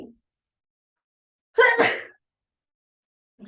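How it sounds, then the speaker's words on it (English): One loud, abrupt sneeze from a person, close and isolated, preceded and followed by silence, with brief bits of voice at the edges. "I did not mean to sneeze in the middle of it"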